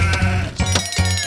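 A sheep bleats loudly and up close, three quick, rich, wavering bleats in a row.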